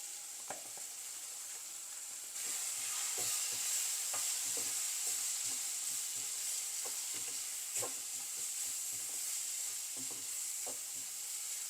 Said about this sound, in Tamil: இன்னும் கொஞ்சம் வதங்கி தக்காளிலாம் மசியணும்